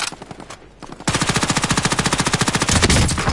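Rapid automatic gunfire in a first-person shooter video game, a few scattered shots followed by a long, loud, evenly spaced burst of machine-gun fire close up.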